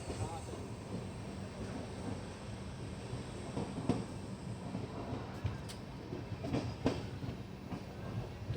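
The Kashi Vishwanath Express runs after leaving Hapur Junction on the Delhi to Banaras line, heard from inside as a steady rumble with faint wheel clicks. No one speaks.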